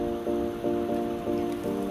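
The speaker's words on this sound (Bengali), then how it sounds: "আলুটা একটু তেলে ভাজা ভাজা করব।" Potatoes sizzle in hot oil in a pan, a steady close crackle with a soft rhythmic scraping that returns about every half second.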